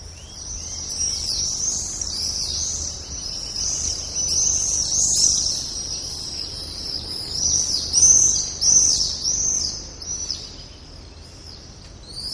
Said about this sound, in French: Nous sommes ici dans un parc, on a entendu quelques oiseaux